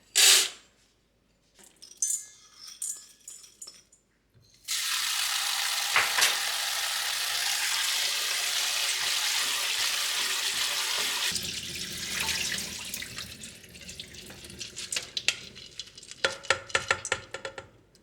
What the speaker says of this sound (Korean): 호박 씨, 해바라기 씨를 한번 씻어 보겠습니다.